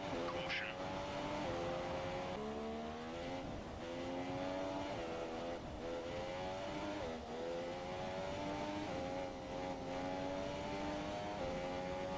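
Formula 1 race cars lapping the Chinese Grand Prix in the F1 2017 video game, a continuous loud whine of high-revving engines that rises and falls with gear changes and passing cars, under a voice.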